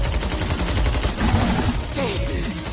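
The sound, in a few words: gunfire shooting at a monster in anime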